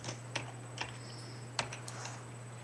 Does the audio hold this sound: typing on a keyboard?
yes